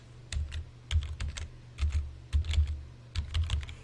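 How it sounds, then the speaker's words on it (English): Short bursts of keystrokes on a computer keyboard, close and clear, typed in quick clusters with brief pauses between them over a low steady hum. "I will type it just to emphasize it."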